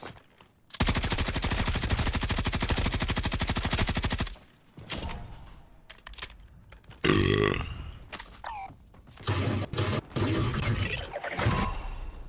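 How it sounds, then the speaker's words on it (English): Rapid bursts of video-game gunfire aimed at the Mangler enemy: a long sustained rattling volley up front, then several shorter loud bursts and shots, close and punchy, with no talking. "I'll take down the Mangler in like 3 shots."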